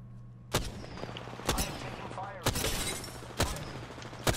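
Bursts of gunfire from the Apex Legends video game, four sharp broadband shots spaced about a second apart over a steady in-game hum, with players talking over the action.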